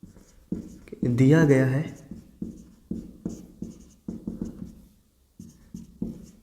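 Pen writing out a maths solution for an NCERT trigonometric ratios exercise, in short scratchy strokes under a man's nearly continuous explanatory speech.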